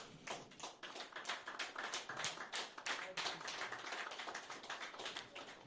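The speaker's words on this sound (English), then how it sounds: "clap for yourself" Scattered hands clap in a modest audience at a pharmaceutical sales and marketing industry gathering, distinct individual claps in an uneven, lively rhythm, quiet and somewhat distant.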